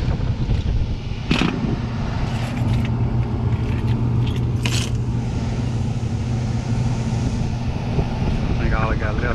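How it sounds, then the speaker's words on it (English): A vacuum pump evacuates a Goodman AC system, giving a steady droning hum that runs throughout with a few brief clicks and rustles near it. "Now I'm pulling the vacuum on it."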